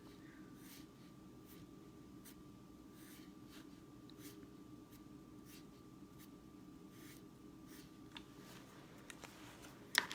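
A dark green marker squeaks and scratches across paper in short, repeated strokes while drawing plant shoots for an egg carton garden craft, close and quiet in a still room, with a few louder taps at the end.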